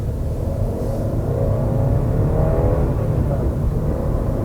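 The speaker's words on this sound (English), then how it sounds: "the little turbo whine and the little noise of the engine going rah, rah, every time you change gears" An Audi A1 Sportback engine drones steadily with a faint rising turbo whine during gear changes, loud and close, no voices.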